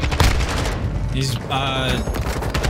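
Gunfire during a Call of Duty Modern Warfare ranked match, with a Kastov 545 rifle loadout, crackling in dense bursts across the clip, mixed with game noise and players talking over it.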